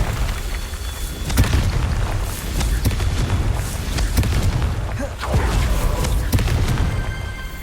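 Confringo explosive spell blasts go off in Hogwarts Legacy as several heavy booming bursts spaced a second or so apart. They sit over a continuous rumbling background with some faint voice.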